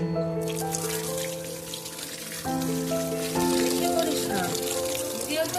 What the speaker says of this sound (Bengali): চলুন আগে মাংসটা ধুয়ে নিই